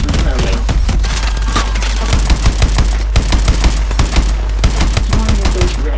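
A mounted main gun firing in Call of Duty: Advanced Warfare: rapid, continuous heavy automatic bursts with rhythmic thumps, loud and close over a deep engine rumble.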